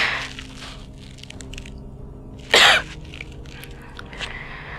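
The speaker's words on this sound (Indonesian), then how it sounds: "Rohnya batuk." A single sharp cough bursts out near the middle, loud and brief, over a quiet background with faint scattered clicks and noise.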